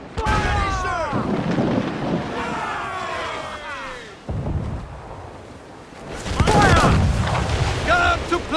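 Ship cannons firing in a naval battle in Assassin's Creed Black Flag: several heavy booming volleys roll out over shouted crew voices, with a loud burst of fire near the end.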